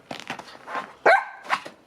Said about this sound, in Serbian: Nema lajanja